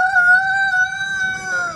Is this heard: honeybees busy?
no